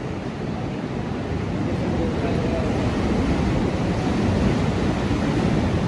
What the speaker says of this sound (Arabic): ذاك البحر هسه راح اصور لكم اياه